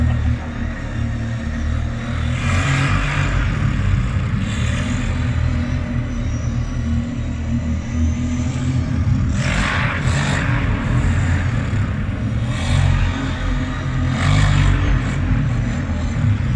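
Kawasaki KFX 700 quad engine revving on part throttle at a fun park, a steady loud rumbling drone with a few surges, close and continuous throughout.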